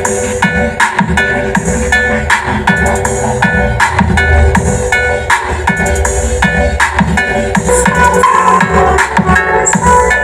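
Loud, busy music with a thumping beat and bright tones playing continuously from a miniature sound system, slightly thin and boxy as if from a small speaker.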